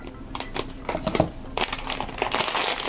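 Scissors snip and crunch through a plastic blind bag for collectible toy beans, giving a run of close, crisp cutting clicks and crinkles that build to denser rustling toward the end.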